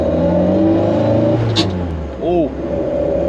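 A Morris Minor's engine drones inside the car while driving through second gear with a grinding gearbox, a steady close hum that dips and swells, with a voice speaking briefly over it.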